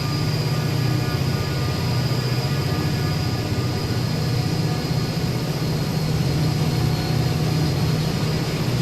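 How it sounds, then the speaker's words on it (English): A steam locomotive runs in Transport Fever, giving a loud, steady low engine rumble with a constant broadband roar throughout and no talking. "Even though it's a steam train, look at the speed of it."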